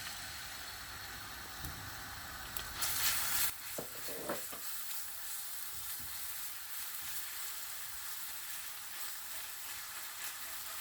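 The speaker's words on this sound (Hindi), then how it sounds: "लहसुन अदरक का पेस्ट डालेंगे" Garlic ginger paste fries in a pan of hot oil, giving a steady hiss and crackle, with a louder sizzling burst and a few stirring scrapes early on.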